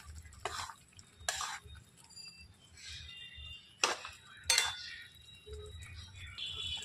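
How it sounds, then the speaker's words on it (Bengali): Cauliflower and potato going into simmering gravy in a pan, heard as a few sharp clinks and scrapes of a utensil against the pan between quiet stretches, fairly faint and close. "এবারে ফুলকপি আলুটা দিয়ে দিলাম।"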